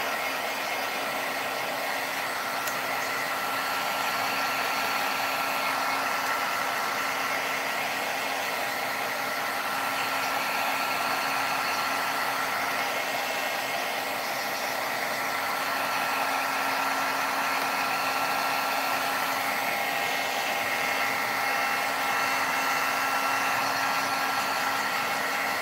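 A hair dryer blows steadily on metallic aqua pigment, a constant close whooshing roar with a faint electrical hum running unbroken the whole way through.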